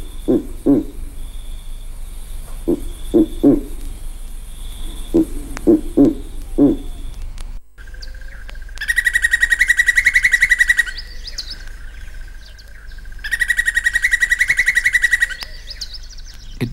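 A barbet calls, first with a series of low, spaced hoot-like notes, then with two loud, sustained, rattling bursts, each lasting about two seconds, distinct from the crested barbet's long trill.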